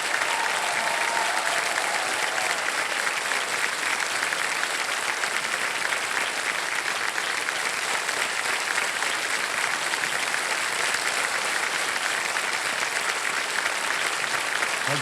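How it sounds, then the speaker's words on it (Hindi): An audience on a televised quiz show gives a long round of steady applause, dense and sustained throughout with no talk heard. "ताली बज जाए इनके लिए।"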